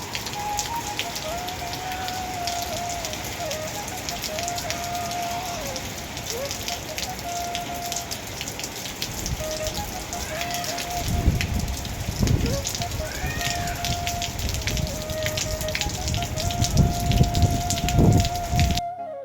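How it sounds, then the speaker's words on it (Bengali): A steady downpour of heavy rain on a rooftop hisses throughout, with louder splashing bursts later on and a faint voice talking in the background. "প্রচুর পরিমাণ বৃষ্টি হচ্ছে।"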